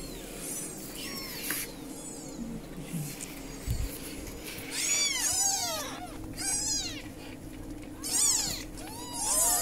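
Several small kittens meowing in high, repeated cries, growing busier and louder toward the end, with faint background noise.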